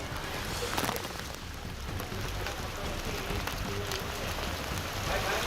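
Rain falls steadily over the district collector's office grounds where floodwater has pooled around submerged cars and two-wheelers, a constant dense patter with occasional sharper drops, no talking heard.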